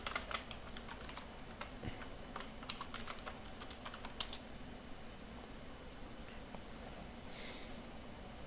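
Quiet, close keystrokes on a computer keyboard as a password is typed, a run of light irregular clicks over low background hum with no speech.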